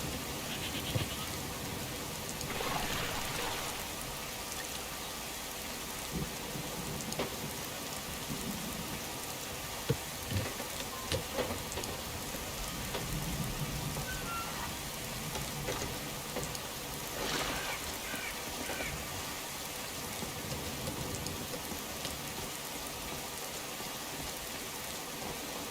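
Steady rain hisses through a lightning storm in the video game Skyrim, with soft low thunder rumbles and scattered drop impacts under the downpour, continuous and fairly full with no speech.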